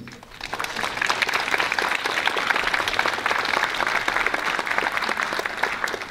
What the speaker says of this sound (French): il y a un applaudissement alors que je n'ai encore rien dit